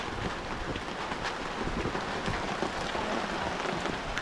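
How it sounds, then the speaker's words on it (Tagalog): Steady rain hisses continuously, with soft scattered patters of drops, moderately close and even in level. "Ulan pa more."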